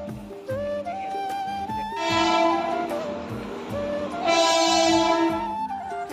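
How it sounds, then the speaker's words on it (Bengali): A train runs at Barrackpore station platform with a rumbling, clattering background. Two loud, sustained horn blasts ring out in turn over the noise, with no talking. "ট্রেনে উঠে গেছি দুজনে, খুব আওয়াজ হচ্ছিল"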